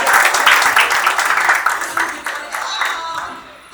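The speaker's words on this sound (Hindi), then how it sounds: "2000 तालियां" Audience clapping for a student at a celebration of programmer selection results, loud and sustained through the whole stretch, slowly thinning and fading toward the end.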